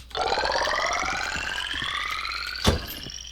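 A synthetic siren-like stock effect marks a shield pickup in a video game, a rising wavering electronic wail lasting about three seconds with a brief sharp hit near the end.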